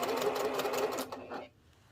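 A sewing machine stitches quilt fabric in one short, even burst, its close, steady whir with rapid needle ticks stopping after about a second and a half.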